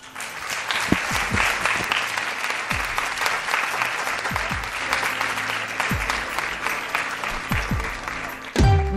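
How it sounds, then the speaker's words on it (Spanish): A radio studio audience claps steadily and loudly for several seconds, a dense wash of applause that swells near the end. "Os pido un aplauso para él."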